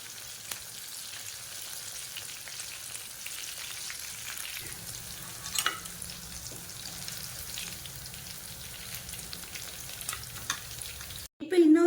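Mutton meatballs (gufta) frying in oil, a steady dense sizzle that runs evenly throughout with occasional pops and a brief clatter at the very end.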